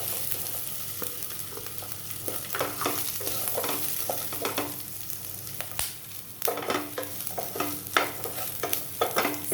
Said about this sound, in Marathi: ही जी सिमला मिरची घेतली ती मी थोडी परतून घेणार आहे.